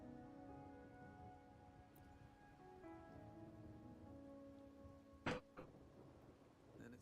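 Steady rain falling in Wuthering Waves, a soft continuous patter under a low musical drone, with one brief sharp knock near the end.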